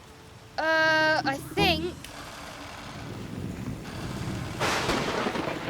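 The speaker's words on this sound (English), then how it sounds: "It's pouring with rain." Heavy rain pours in a stormy cartoon scene with construction vehicles. A loud harmonic horn-like tone opens, then a steady rushing hiss swells and grows louder, with low rumbling underneath and a brief spoken line.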